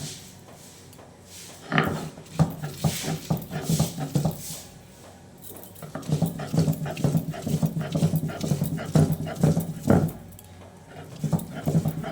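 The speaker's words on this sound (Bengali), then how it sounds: "মা এখন মশলাটা বেটে নিচ্ছে।" Garlic, ginger and spices ground by hand on a stone in a home kitchen, heard as close, uneven scraping and knocking strokes in a rough rhythm with short pauses.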